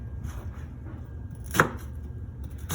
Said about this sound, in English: Okay, so now we're gonna cut up our onion.